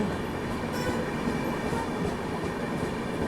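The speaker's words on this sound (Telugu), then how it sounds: "ఇక్కడ ఏదో ట్రైన్ అయితే జింగ్ అవుతుందండి" A Shatabdi Superfast Express train passes close by with a continuous heavy rumble and rattling wheels, loud and steady, with no voices.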